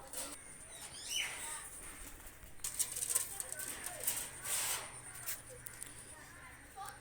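Pakistani high flyer pigeons give faint chirps and soft calls, with a brief sharper note near the start, over steady background noise.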